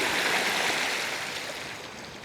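Seawater rushes and gurgles as it is sucked down into a hole on an island shore, a steady wash that fades slightly toward the end.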